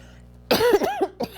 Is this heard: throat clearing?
yes